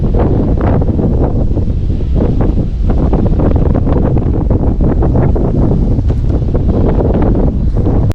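Strong wind buffets the microphone at an airport viewing park, a loud, continuous rumbling roar with gusty rustling and no break across the whole stretch.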